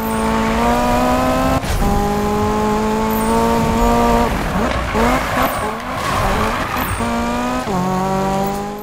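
Racing car in the video game Need for Speed (2015): a loud engine whine steps up through the gears, with repeated tire skids and squeals breaking in between.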